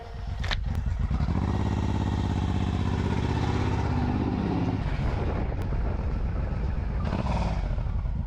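Suzuki M109R motorcycle engine droning loud and steady while riding, with heavy wind buffeting the microphone and a brief rise and fall in pitch partway through.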